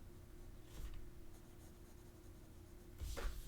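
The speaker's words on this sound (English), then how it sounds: "I'll use the colored pencil to make this stand out from the sky by coloring in the lines I just made." Colored pencil scratches across paper in short, soft strokes, faint and close, with a couple of slightly louder bursts of scribbling.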